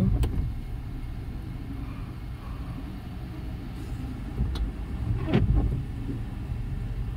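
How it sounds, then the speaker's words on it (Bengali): Cars on a bridge road near Lengpui Airport pass in rain, a steady low rumble of traffic with tyre hiss, a few sharp knocks and a louder passing vehicle near the end, with wind buffeting the microphone. "একটা পরে একটা গাড়ি আসছে।"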